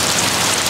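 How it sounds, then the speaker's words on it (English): Rain falling steadily, a dense, loud hiss of drops that stays even and unbroken throughout, heard alone without voices. "rain is like a holy grail here where I'm at. It never rains."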